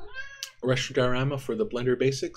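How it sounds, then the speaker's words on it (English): A pet cat meows loudly and close by, a drawn-out cry rising at the start, mixed with someone talking about building a Blender scene. "that's my cat."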